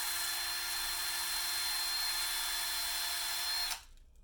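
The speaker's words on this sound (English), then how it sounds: "it comes with a pencil sharpener that goes into your drill" A high, steady whine of a drill spinning a CH Hanson drill pencil sharpener as it sharpens a pencil, loud and constant for several seconds before cutting off abruptly.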